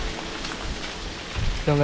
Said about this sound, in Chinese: 因为又下雨的关系哦